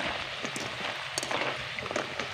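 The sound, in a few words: frying yellow nimki in hot oil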